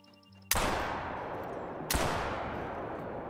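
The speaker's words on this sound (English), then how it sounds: "First shot might have gotten him, but the second shot definitely did get him" Two loud shotgun blasts fired at quail on a hunt by the Mississippi River in the game Call of the Wild, about a second and a half apart, each with a long rolling echo, after a brief soft tonal sound.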